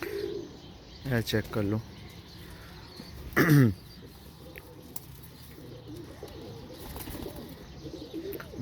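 Teddy pigeons coo close by in two short rolling bursts, then fall quiet amid soft background noise, with a man's brief speech.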